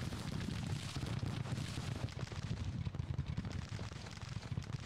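Artillery guns firing in a Civil War battle in the Grand Tactician strategy game, a dense, rumbling wash of distant booms and crackling fire blending into a continuous low roar.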